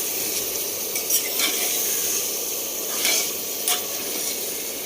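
Chicken curry masala sautés in a pan with a steady, loud hiss of sizzling, broken by a few sharp scrapes of the spoon as it is stirred, close and without voices.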